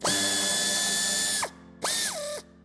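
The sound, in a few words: ratchet removing bumper screw on Peugeot 308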